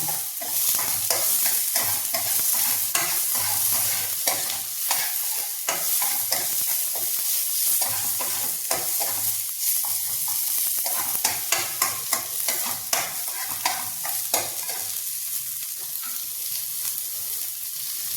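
Tomatoes being stirred and fried into a chicken green curry in a pan, a steady sizzle under repeated scraping strokes of a spoon, close and busy throughout, with a few sharper knocks toward the end.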